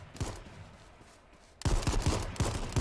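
Gunfire in the H1Z1 battle royale game, a few scattered shots early, then a denser burst of rapid rounds in the last second, fairly close and sharp with no voices.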